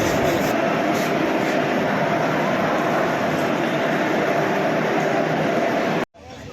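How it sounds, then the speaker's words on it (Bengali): A Vande Bharat train at a station gives off a loud, steady rumble and hiss with faint voices mixed in, cutting off abruptly near the end. "সামনের দিকে যেয়ে দেখছি একটা বন্দে ভারত ট্রেন দেখতে পেলাম।"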